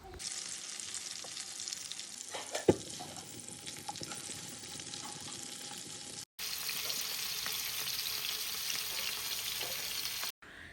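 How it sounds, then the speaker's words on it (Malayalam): Chicken pieces frying in a little oil for chicken mandi, a steady close sizzle with occasional stirring and turning clatter, continuous throughout with a brief break near the end. "ഇതുപോലെ കുറച്ച് എണ്ണ ഒഴിച്ചിട്ട് ഒന്ന് തിരിച്ചും മറിച്ചിട്ടിട്ട് ഒന്ന് ഫ്രൈ ചെയ്തെടുക്കുക"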